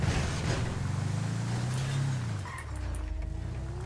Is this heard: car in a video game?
yes